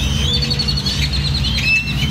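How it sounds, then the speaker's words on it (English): Many birds call and chirp around a parking lot, their high twittering calls running steadily for a couple of seconds over a constant low background rumble. "There are a lot of birds around our parking spot."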